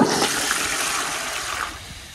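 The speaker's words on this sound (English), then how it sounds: "I'm gonna have to get another flush." A 1920 Standard Ejecto toilet flushes with a loud, close, steady rush of water that slowly tapers off over a couple of seconds, with no talking.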